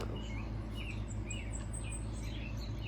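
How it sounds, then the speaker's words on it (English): Several wild birds chirp and tweet in quick, overlapping calls above a steady low background hum, fairly close and lively. "It's been really noisy, about 8 different birds here."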